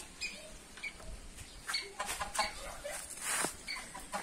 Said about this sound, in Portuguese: Olha o galinheiro